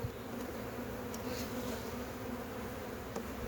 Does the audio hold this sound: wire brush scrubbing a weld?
no